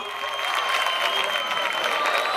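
An audience at a music show applauds a hip hop band, a thick, continuous round of clapping with some crowd noise mixed in, holding steady throughout.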